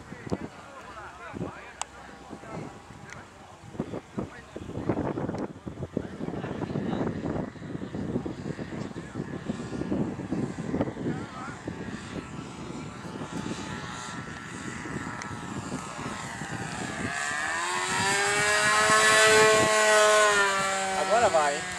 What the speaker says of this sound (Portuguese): Pouso na ventania.